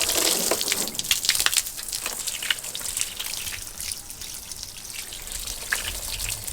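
Water sprayed in hissing, splashing gushes onto the painted body of a Ford 7.3 Powerstroke truck during a detail wash, close and continuous with pulsing bursts throughout.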